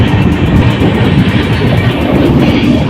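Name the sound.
Sikkim Mahananda Express train departing Thakurganj station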